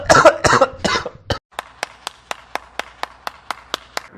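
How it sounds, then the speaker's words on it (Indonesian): A few rough coughs and throat-clearing sounds up close, followed by a long run of evenly spaced sharp taps or claps, steady and fairly quiet. "Batuk"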